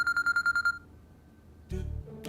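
A phone rings in a quiet room, a repeating electronic ringtone of about six quick pulses that stops after under a second, followed by a brief muffled thump and rustle.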